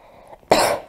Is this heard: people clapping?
no